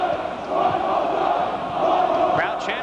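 Wrestling crowd chanting at a WWA event, a dense, sustained roar of many voices rising and falling in waves, filling the whole space at a fairly loud level.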